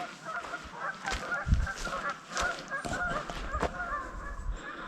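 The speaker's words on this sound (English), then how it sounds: "The ducks quacking." Waterfowl call near a backcountry campsite on the La Cloche Silhouette trail, giving repeated honking quacks over several seconds at moderate distance amid outdoor background noise.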